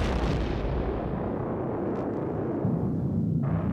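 A rocket explosion effect, a loud continuous roaring blast rumble filling the whole stretch, with deep low rumbling and hissing that slowly loses its top end.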